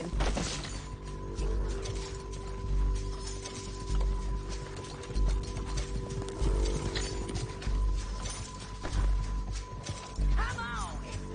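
A horse's hooves clip-clop steadily in Red Dead Redemption 2, a repeating rhythmic plodding mixed with ambient game sounds and voices talking over it.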